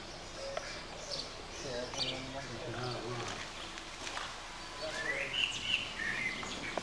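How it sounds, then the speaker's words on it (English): Birds twitter in the trees at a nature park, scattered chirps and short calls at middling distance, partly under a person speaking nearby. "there's lots of birds twittering in the trees"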